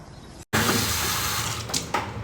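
Water runs steadily from a kitchen tap into a bowl, a loud close splashing flow broken by one brief gap near the start.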